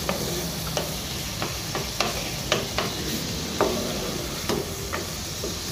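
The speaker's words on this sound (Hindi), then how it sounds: "थोड़ा सा इसको मसाले को भूनेंगे।" Spice masala for a spicy urad dal (daal mash) with softened tomatoes sautéing in a pan: a steady close sizzle and hiss, broken by repeated sharp scrapes of a spoon stirring every second or so, with no voices.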